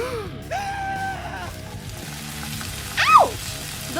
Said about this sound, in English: The oil is sizzling again.